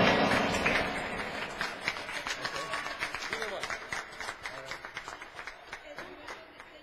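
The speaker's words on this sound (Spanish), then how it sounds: "A pedir un fuertísimo aplauso, él es Claude, para quien pido un fuerte aplauso" Audience applause building from a dense burst into distinct rhythmic clapping, with individual claps growing more spaced and regular as the noise of the crowd slowly tapers off.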